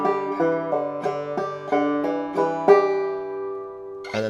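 Clawhammer banjo picking the second and third measures of She'll Be Comin Round the Mountain, a lively run of bright plucked notes in a bouncing rhythm, close and solo, ending on a held ring.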